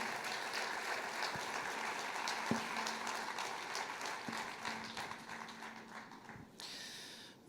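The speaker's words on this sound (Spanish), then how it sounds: "Fuerte ese aplauso de alabanza al Señor." A church congregation applauds in praise, a dense, steady wash of clapping from many hands with a few sharp knocks, trailing off at the end.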